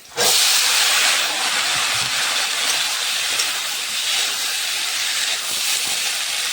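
Food frying in hot oil until it turns deep red, a loud, steady, hissing sizzle that starts abruptly and carries on unbroken with no voices over it.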